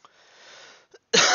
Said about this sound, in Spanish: Perdonadme por la tos.